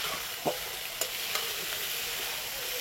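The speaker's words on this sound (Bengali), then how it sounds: "এবার ক্যাপসিকামটা দিয়ে এটাকে ভালো করে ভাজবো।" Long-sliced capsicum fries in a pan with ginger and green chili. A steady, bright sizzle carries on throughout, with a few sharp spatula taps and scrapes.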